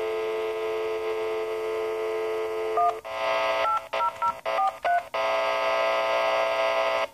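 Telephone touch-tone dialing on a ground return phone line: a steady tone is followed by a quick run of short DTMF beeps in an irregular rhythm, then the steady tone resumes, with faint hum underneath.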